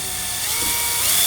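A power tool drives self-tapping screws into a plastic carbon-fiber-look lip on a VW GTI Mk7, giving a loud, continuous whirring grind that builds slightly in strength over its short span.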